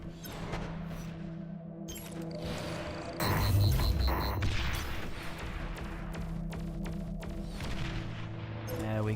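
Rocket launcher shots in the real-time strategy game Beyond All Reason, a burst of layered blasts and booms swelling midway over a steady game soundscape, with no talking.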